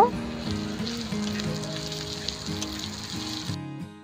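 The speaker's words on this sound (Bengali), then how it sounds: "আর দিয়ে দেব সামান্য একটু কালো জিরে। সব কিছু ভেজে নেব।" Onion, dried chili, crushed garlic, ginger and black cumin frying in oil for mixed greens, a continuous close sizzle with a low voice humming faintly beneath until it cuts off near the end.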